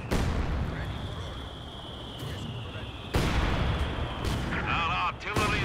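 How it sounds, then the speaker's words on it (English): Artillery firing in the Company of Heroes 2 strategy game, heavy booming blasts at intervals over a constant rumbling battlefield din, with a faint high tone and scattered smaller pops. "Our artillery will pulverize the enemy."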